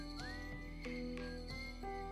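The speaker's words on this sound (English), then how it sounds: "I don't think I've ever heard whistling in a video game music" Whistled melody within video game music, clear tuneful notes that slide and hold over a sustained instrumental backing, with short rhythmic pulses marking the beat and no voices.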